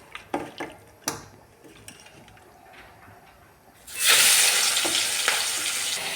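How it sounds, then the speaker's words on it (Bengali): Prawns coated in salt and turmeric drop into hot oil in a pan on a gas stove, bursting into a loud, steady sizzle after a few light clinks and taps, with no talking. "এই চিংড়ি মাছ ভাজা হচ্ছে"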